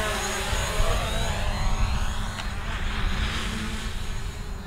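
A Hubsan Zino drone flying in full reverse, a steady whirring motor drone mixed with broad wind-like rush, fairly close and continuous throughout.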